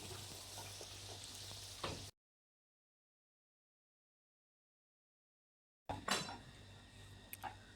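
Luchi puris puffing up as they fry in hot oil, a close, fairly quiet sizzle with light utensil clicks, cut off by a stretch of silence before the frying resumes.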